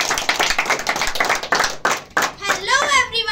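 Clapping from a small group greeting a first session, with dense overlapping hand claps that thin out as a voice starts speaking near the end.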